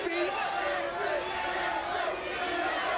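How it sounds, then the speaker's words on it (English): A wrestling crowd on its feet roars and cheers after a drop kick sends D'Lo Brown to the floor, a steady wall of arena noise with a commentator's voice over it. "Crowd is on their feet."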